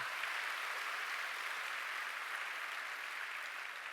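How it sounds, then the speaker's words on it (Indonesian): Congregation applauding during a church service, a steady, even wash of clapping held at a moderate distance for the whole stretch with no voices over it. "Tepuk tangan yang meriah"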